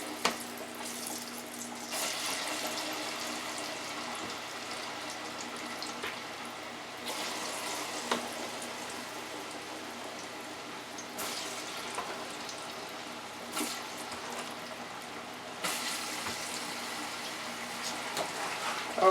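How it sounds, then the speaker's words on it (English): Plantains sizzle steadily in hot oil in a home kitchen deep fryer, a continuous hiss and crackle with brief surges as pieces go in, close and without talk. "Now we're going to fry the fried plantains. I'm going to drop them in."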